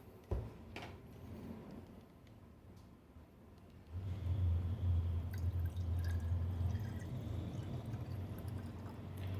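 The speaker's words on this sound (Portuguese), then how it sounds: "E agora eu vou colocar água e vamos ver a diferença." Water is poured into a glass cylinder, a few drips at first and then a steady low pouring rush that fills the second half, fairly quiet and with no talking.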